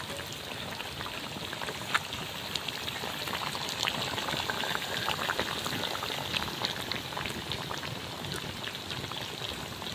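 A pot of shrimp with papaya boiling on the stove, a dense, even bubbling hiss that stays steady and fairly quiet from start to finish, with no voices.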